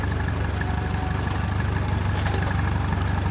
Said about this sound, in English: Listen to that lovely deep rumbling engine, owned by Lee Curtis from South Malton.